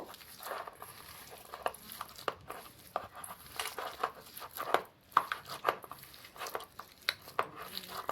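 Bael fruit pulp is squeezed and mashed by hand with sugar and beet salt, producing close, wet squelching and soft patting sounds in an irregular rhythm.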